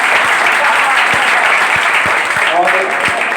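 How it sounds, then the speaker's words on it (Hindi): An audience claps steadily and loudly throughout, a dense wash of applause at a VICE day celebration and certificate distribution, with faint voices mixed in. "एक बार जोरदार तालियां दीजिए"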